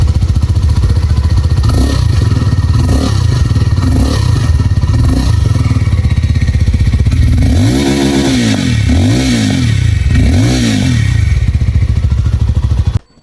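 A 2026 Jawa Classic 350 alloy-wheel motorcycle with a fully chrome dual exhaust idles with a steady loud thrum, then revs three times in rising and falling swells before cutting off abruptly at the end.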